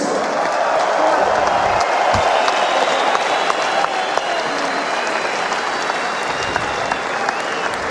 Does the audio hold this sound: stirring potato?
no